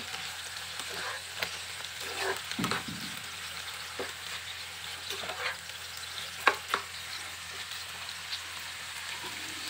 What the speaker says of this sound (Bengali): সয়া সসটা দিয়ে আবার খুব ভালোভাবে আমি মিশিয়ে নেব সবজিগুলো